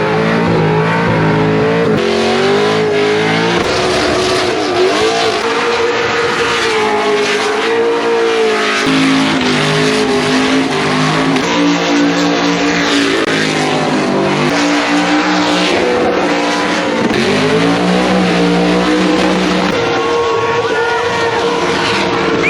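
A Holden SS race car associated with Summernats runs loud and continuous, its engine revving and changing pitch throughout with no talk over it.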